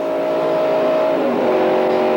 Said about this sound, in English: Hear him shifting gears just as much as he can wind it up